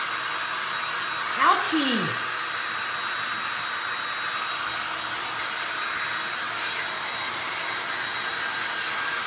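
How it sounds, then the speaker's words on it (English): A heat gun blows steadily to dry resin on glass art, a constant broadband rushing hiss throughout, close and even, with a brief voice exclaiming early on. "Don't point the heat gun at your arm."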